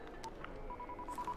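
A telephone is dialed in the video game Dying Light: a quick run of short electronic keypad beeps, evenly spaced, fairly clear over low background game ambience.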